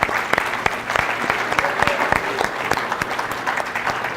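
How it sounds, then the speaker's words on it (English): Audience applause for award winners at a high school awards ceremony, a steady dense clapping from a large crowd, loud and sustained throughout with no talk over it. "let's give all of our award winners another round of applause"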